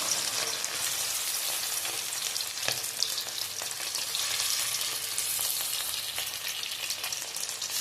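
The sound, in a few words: chicken frying in iron wok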